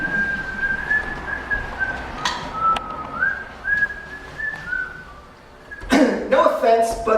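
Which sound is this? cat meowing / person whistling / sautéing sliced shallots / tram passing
person whistling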